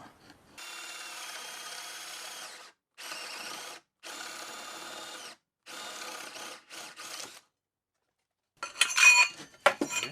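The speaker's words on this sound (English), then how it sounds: "now we got to drill a hole all the way through" A power drill drilling a hole all the way through to mount a bearing plate on a handlebar skateboard whirs in several bursts of a few seconds each, close and steady, followed by a short clatter at the end.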